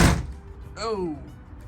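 A storm door with a worn-out closer shock swings shut and slams with a single heavy thud right at the start. A short voice follows in the quiet afterward.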